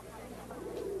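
Pigeons or turtle doves coo softly in a short, low burst, the cooing rising toward the end of the clip over a steady background.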